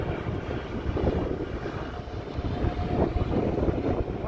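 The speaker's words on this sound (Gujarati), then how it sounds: "અને એકદમ જોરદાર પવન પણ છે, ઠંડક થઈ ગઈ છે." Strong, cold wind blows outdoors on a rainy day in Canada, a steady loud rumble of gusts buffeting the microphone throughout.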